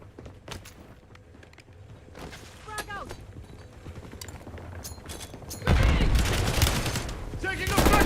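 Gunfire from Call of Duty Warzone in Resurgence mode, with scattered shots under game voice lines and then a loud sustained burst of firing near the end.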